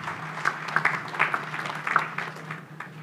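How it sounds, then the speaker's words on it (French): An audience at a municipal New Year's greetings ceremony claps, a brief scattered patter of hands in a room, moderately quiet and uneven. "Merci d'applaudir."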